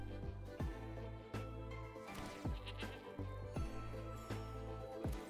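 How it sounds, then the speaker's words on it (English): Goat token bleating in a card game, several short, mid-loud bleats spaced over a steady looping backdrop of game music. "We get a goat."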